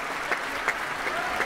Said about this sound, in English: Gavin Higgins himself making his way onto the stage and applauding the performers